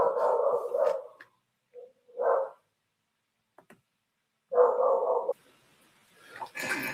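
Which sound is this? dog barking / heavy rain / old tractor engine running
dog barking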